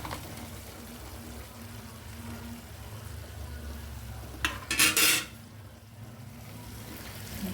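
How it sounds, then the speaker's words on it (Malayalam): Fried fish pieces dropped into a pan for a fish pickle, making a short burst of clatter and sizzle midway through an otherwise quiet, low kitchen background. "അതിനുശേഷം വറുത്ത് വെച്ച മീൻ കഷ്ണങ്ങൾ ഇതിലേക്കിടുക."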